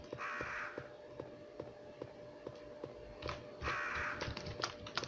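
Crows caw repeatedly in Resident Evil, two bursts of harsh calls over a steady ticking game ambience, with scattered footsteps.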